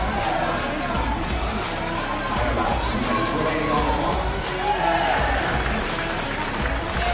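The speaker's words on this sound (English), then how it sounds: "There's a whole host of volunteers working the event team that were cheering on Sandra, trying to will her up that rope." A crowd of event volunteers cheers and shouts continuously to urge on a masters CrossFit athlete climbing a rope, a dense steady roar of mixed voices with applause blended in.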